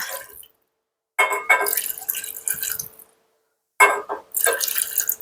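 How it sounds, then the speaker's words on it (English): Chicken stock is poured into a pan in two separate splashing bursts of liquid, close and fairly loud, separated by a brief silence. "I put in about a cup of chicken stock."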